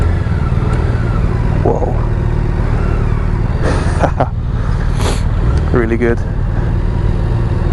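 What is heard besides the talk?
BMW K1600GT motorcycle engine accelerating, turbine-like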